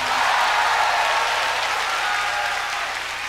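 A large audience in Kanematsu Auditorium at Hitotsubashi University's 1990 school festival concert applauds in a dense, sustained wash of clapping that holds steady and fades slightly at the end.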